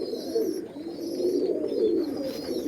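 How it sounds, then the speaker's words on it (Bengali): An Andhra Fulsira male pigeon, ring number 1740, coos while held in a hand, a close, soft, repeated throaty rolling call running throughout with faint background chirps. "এক হাতে ধরে পায়রা দেখাচ্ছি আপনাদের"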